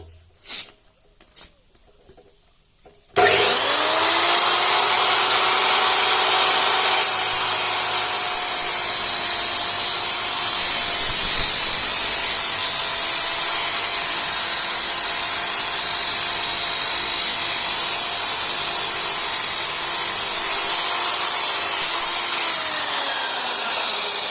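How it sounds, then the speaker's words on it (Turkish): An RTRMAX RTM 694 profile cutting machine starts after a few soft handling knocks, then cuts a workpiece with a loud, sustained, high whine and a steady motor hum that lasts over twenty seconds. "Parçamı yerleştirdim. Şimdi kesiyorum"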